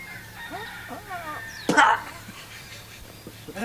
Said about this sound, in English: Some of that chicken sound too.